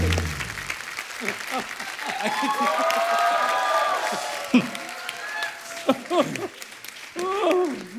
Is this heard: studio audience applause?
yes